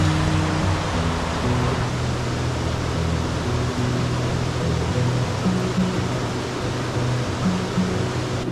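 Aysgarth Falls in the Yorkshire Dales pours with a constant, dense rush of falling water that stays steady and close throughout, with no voices.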